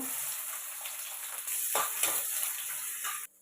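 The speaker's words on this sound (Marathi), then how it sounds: "तेल गरम झालं तर जिरे टाकतोय" Cumin seeds fry in hot oil in a home kitchen, giving a steady bright sizzle and crackle at close range for a few seconds before stopping abruptly.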